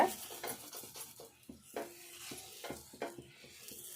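Half an onion rubbed firmly over a hot dosa pan, giving a run of scraping, faintly sizzling strokes, close and moderately loud, in an uneven back-and-forth rhythm with no voices.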